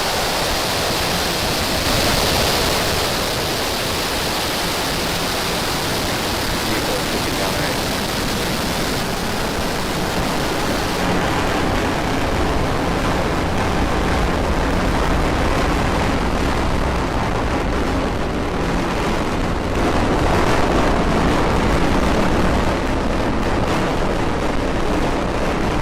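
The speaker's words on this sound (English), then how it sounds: "Ignition. Liftoff of Falcon 9 and Starlink 8." A SpaceX Falcon 9 rocket lifts off on a Starlink mission, its engines giving a massive, unbroken crackling roar that stays loud and dense throughout.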